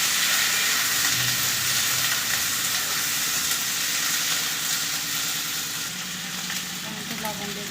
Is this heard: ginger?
yes